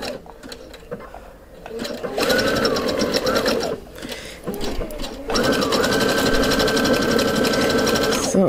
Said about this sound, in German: Hier muss ich der Nähmaschine ein bisschen helfen.